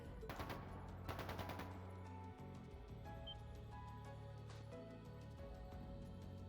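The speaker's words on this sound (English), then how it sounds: "That didn't sound good. That sounded like Gunfire?" Bursts of rapid gunfire crackle over a steady droning soundtrack in The Legend of Heroes: Trails of Cold Steel II, followed by a low rumbling background with occasional distant shots.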